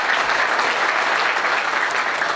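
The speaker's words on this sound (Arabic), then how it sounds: "صفقوا يا الربع" Applause from the gathered crowd at a tribal honoring ceremony in Dhahran al-Janub, a continuous, full burst of many hands clapping at a steady level throughout.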